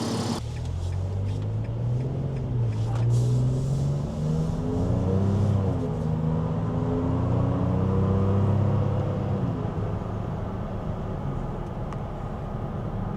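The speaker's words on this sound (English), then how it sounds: "You can definitely hear the exhaust note is different when driving it." Steady low exhaust drone from a 2026 Nissan Frontier PRO-4X with NISMO upgrades while driving, engine pitch rising and settling throughout, heard from inside the cabin with no talk.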